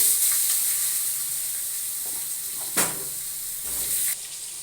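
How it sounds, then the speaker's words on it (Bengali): About four potatoes frying in hot oil in a pan, a steady broad sizzle and hiss throughout with a couple of brief louder spits, close up and no one talking. "এবার আলুগুলো ভেজে নেব"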